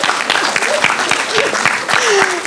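A crowd claps for a couple of seconds at a conference auditorium session, with a few distinct claps standing out and a voice talking over it.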